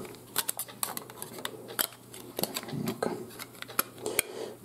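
The metal battery cover of a Nokia E52 phone is pressed and snapped shut, giving a series of sharp, close plastic-and-metal clicks and taps over several seconds.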